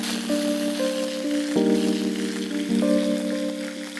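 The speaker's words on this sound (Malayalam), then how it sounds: "ഇച്ചിരി കറിവേപ്പില ഇടുക" Curry leaves dropped into hot oil after popped mustard seeds give a steady soft sizzle and crackle, heard under sustained tonal music.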